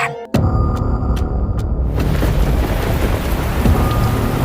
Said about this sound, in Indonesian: Malam itu hujan turun sangat deras. Langit berkali-kali disambar petir.